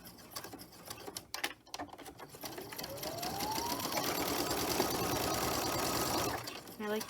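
A Brother Simplicity sewing machine stitches ribbon for a holiday herb sachet, running a steady, loud whir for several seconds after a few short starts, then stopping abruptly.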